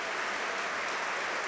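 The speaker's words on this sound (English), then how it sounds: "Standing ovation for him," Football stadium crowd at a Birmingham City match against Middlesbrough gives a standing ovation, a sustained, even roar of clapping from thousands of hands, loud and unbroken with no voices standing out.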